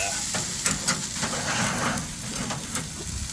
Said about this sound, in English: the top is going to sear very fast